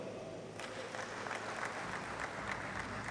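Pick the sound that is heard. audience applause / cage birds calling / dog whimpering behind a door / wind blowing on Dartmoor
audience applause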